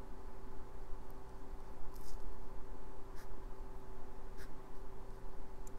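A thin 0.1 micron pen nib inks fine inner details on a comic-style Captain America drawing, giving faint, soft scratchy strokes with a few light ticks over a steady low hum.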